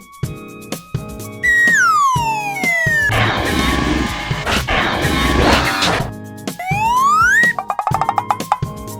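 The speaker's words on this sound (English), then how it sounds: "Fire truck." A fire truck siren wails loudly and close, rising and falling in long sweeps with a dense, harsh blare in the middle and short clanking knocks before and after.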